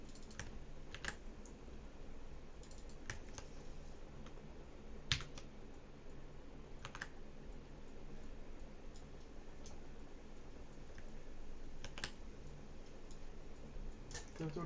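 Someone types on a computer keyboard, giving quiet, irregular bursts of key clicks at close range with a few sharper taps, under faint room noise.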